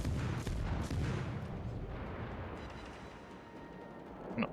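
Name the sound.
warship gun salvo in the video game World of Warships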